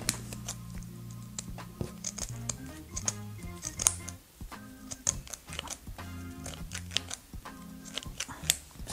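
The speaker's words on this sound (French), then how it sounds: "Fatigué mes ciseaux cranteurs." Pinking shears snip along fabric while a headband is being finished, giving a busy run of small crisp clicks and cuts, close and fairly quiet, over a soft background hum.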